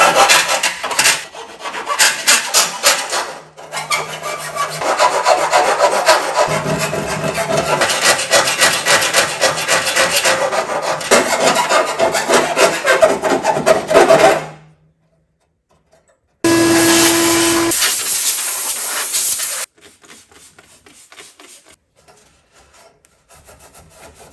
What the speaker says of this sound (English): So it's quite the reciprocating saw.